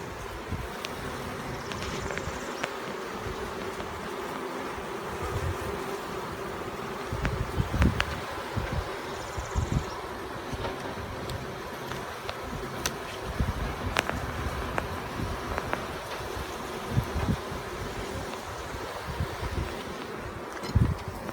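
Honeybees buzzing steadily around an open hive during an inspection after a swarm, a continuous close hum with occasional louder passes near the microphone and light wind noise.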